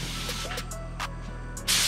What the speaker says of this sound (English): I need to spray the other half of the car.